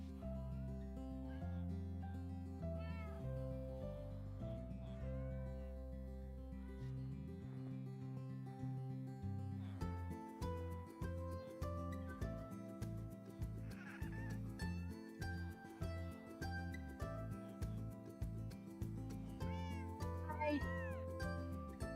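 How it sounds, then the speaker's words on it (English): In Minecraft, a group of cats meows repeatedly over layered game music, the calls coming in scattered bursts that grow more frequent through the second half. "We've got lots of cats in here right now."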